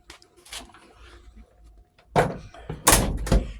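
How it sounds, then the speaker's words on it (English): The door of a 1988 Ford F250 pickup under bodywork repair shuts with a solid thunk, followed by further rattling knocks and clunks, close by, with quiet shuffling before. "Close the door."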